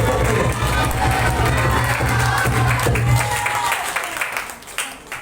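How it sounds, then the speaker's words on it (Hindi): A church congregation at a Sunday sermon claps and cheers in a loud, dense crowd roar with voices shouting throughout, easing slightly toward the end. "तालियों में साथ जोर से बोलो हालेलुया"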